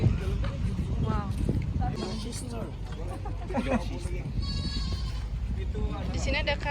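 Goats bleat several times in hot outdoor surroundings in Bima, West Nusa Tenggara, their wavering calls rising over a steady murmur of background voices and ambient noise.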